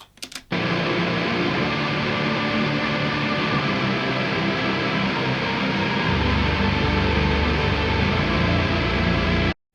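Electric guitar played through Mesa and Diesel cabinets with flanger layered on chorus, a dense, hissy distorted wall of sound held steady for about nine seconds after a short start, with a thicker low end in the last few seconds.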